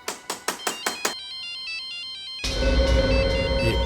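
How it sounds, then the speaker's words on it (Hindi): A cell phone ringtone plays a short repeating electronic melody inside an empty bungalow in a crime drama scene. It follows a quick series of sharp knocks and gives way to a louder burst of broadband noise. "ये सेलफोन किसका बजा?"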